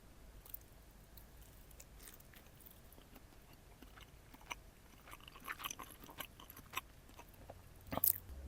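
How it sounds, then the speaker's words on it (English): Close-miked biting and chewing of soggy Subway hot honey chicken tenders: quiet, soft squishy bites with little crunch, a few sharper clicks building toward the end, no talking. "let's listen to the lack of crunch with the ASMR microphone"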